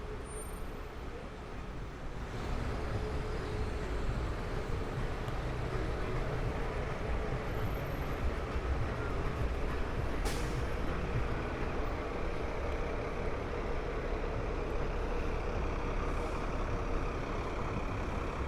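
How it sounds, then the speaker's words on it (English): Steady roadway traffic rumbles along Canal Street in Chinatown, New York City, a continuous broadband wash of car and truck engines with a brief sharp transient near the middle, heard from the sidewalk without talk. "I'm hearing car horns and car traffic now."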